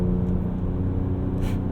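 A 2024 Ford Ranger Raptor pickup on upgraded Bridgestone Dueler tires drives through corners, a steady low engine and road rumble heard from inside the cabin, with no talk.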